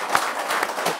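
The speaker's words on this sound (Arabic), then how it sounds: "صفقوا لنا على نصر" An audience at a comedy show applauds, a dense, steady wash of clapping that holds throughout the moment at a fairly close, even level.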